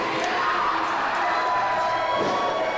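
Wrestling crowd at an ECPW Kingston independent show, cheering and shouting steadily as a dense, continuous roar of many voices throughout the short moment, fairly loud and sustained without a break.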